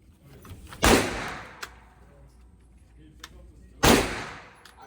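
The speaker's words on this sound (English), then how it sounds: "We're doing shotguns next." Two loud, sharp shotgun blasts ring out at an outdoor shooting range, roughly three seconds apart, over low background noise.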